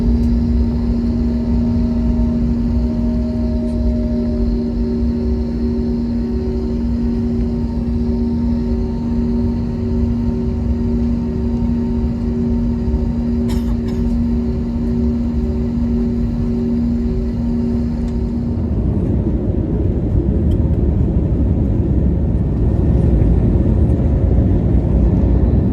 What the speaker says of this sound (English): Lifted aircraft airborne. You can see Las Vegas Airport.